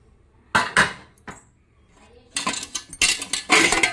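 A heavy metal idli pot of about 1.2 kg, with three plates holding 21 idlis, being handled: a few sharp metallic clanks, a pause, then a busier cluster of ringing knocks and scrapes, close by.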